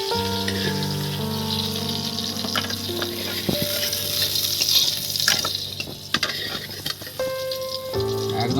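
Potato pieces fry in hot oil for matar pulao with a loud, steady sizzle up close, broken by spoon scrapes and clinks against the pan as they are stirred and lifted out.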